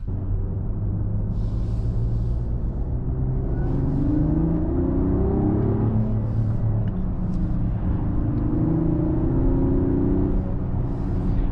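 A 2025 Mercedes-AMG GLE 53 Hybrid SUV's engine accelerates, giving a steady, throaty low drone and rumble throughout with no talking.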